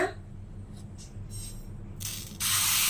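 Appam batter poured into a hot oiled pan, a soft hiss that swells into a loud sizzle late in the clip, with no talking.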